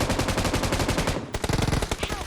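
Rapid automatic gunfire from a battle royale video game, loud and close, with a dense burst of shots, a short pause, then another tighter volley.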